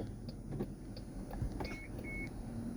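Overhead console buttons on a 2022 Chrysler Pacifica open the power sliding doors: steady motor hum inside the cabin with a couple of short electronic beeps, no talking.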